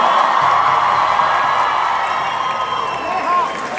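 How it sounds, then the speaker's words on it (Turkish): A large crowd cheers and claps loudly and steadily, with whoops rising over the roar, fading slightly toward the end. "Kendinize bir alkış alabilir miyim sizlere?"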